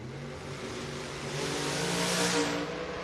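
Drag race between a 1973 Camaro and a 1963 Corvette at a strip event: a steady roar of car engines revving hard at full throttle, swelling louder midway and holding, with crowd noise and harmonic engine tones layered underneath.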